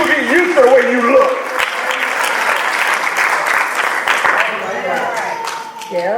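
A podcast audience breaks into sustained applause, a dense wash of many hands clapping at once, while a voice talks over it.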